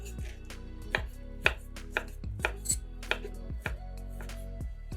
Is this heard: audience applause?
no